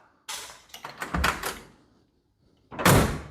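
A 1974 Ford Maverick car door swings open with a rattling creak on worn hinge pins and bushings, then after a short pause slams shut with a loud, close thunk.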